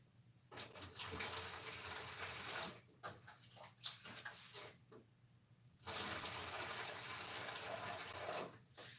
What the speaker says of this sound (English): fill the jug.